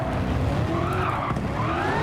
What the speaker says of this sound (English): the front right wheel is spinning, crying out in agony as we try to put over 1000 horsepower, down to the ground.